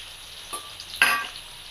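Dried red chillies sizzle in hot oil for a cabbage fry, with a brief crackle at first and then a louder burst of frying partway through, close and on their own.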